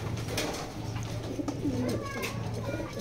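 Racing pigeon cooing in a loft: a low, steady droning coo runs throughout, with a brief higher bird call midway, heard amid ambient background and under faint indistinct voice.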